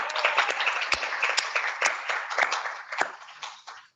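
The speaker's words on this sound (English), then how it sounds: "Let's give all of our members a big round of applause." A modest crowd at a Sequim Chamber of Commerce luncheon claps for its members, uneven individual claps rising and then thinning out before stopping at the end.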